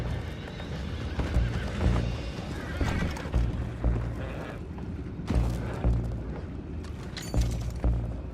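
Horses whinny and neigh amid clattering hoofbeats and rumbling game effects in Red Dead Redemption 2, with bursts of activity recurring through a busy, loud mix.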